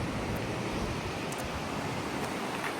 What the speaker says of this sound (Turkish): şimdi burada dere akıyor tamam mı?